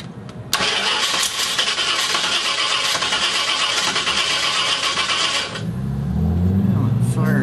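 A 331 Ford stroker engine, a small-block Windsor, cranking and firing up after sitting five years, loud and close, then settling into a rough, lumpy idle.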